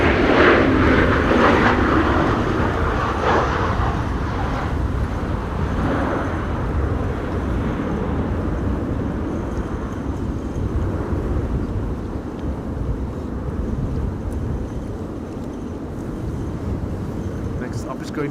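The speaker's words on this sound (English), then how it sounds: "This is KLM at 1304, arriving from Gdansk in Poland, Embraer 190" A KLM Embraer 190 airliner arriving in high winds at Amsterdam Schiphol during a storm gives a loud, continuous jet roar mixed with heavy wind buffeting on the microphone, steady throughout with a slight fade.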